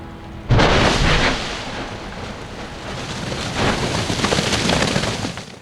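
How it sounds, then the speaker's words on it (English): Strombolian explosions at Nyiragongo volcano burst out as a sudden loud blast followed by a sustained rumbling, crackling roar that swells again later, outdoors with no voices. "showing low-energy explosive emission known as strombolian activity"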